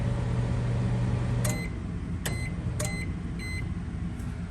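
A microwave oven running off a GENMAX GM3300i inverter generator hums steadily in the background, with three or four sharp electronic beeps sounding a moment apart partway through.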